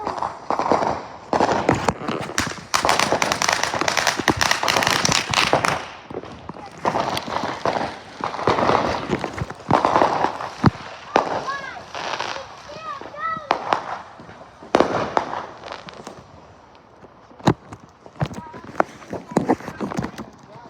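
Fourth of July fireworks and firecrackers going off in a dense, irregular barrage of loud bangs and crackling bursts with some whistling, while people talk and call out throughout.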